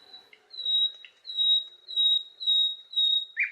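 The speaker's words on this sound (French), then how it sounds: "J'ai dit, François, on dirait les oiseaux, ils nous critiquent" Small birds chirping in a steady series of short, high, evenly spaced calls, fairly faint, heard on their own with no voices.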